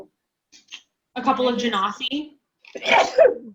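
A sharp, loud sneeze bursts out among nearby voices, with brief talk before and after it.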